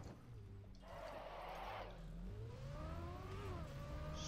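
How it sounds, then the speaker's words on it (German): Video game car revving and accelerating in a racing RPG knockout event, engine tone climbing in steady pitch sweeps with a brief splashy whoosh early on, loud and continuous. "Oh Mann, würde das Auto bitte beschleunigen?"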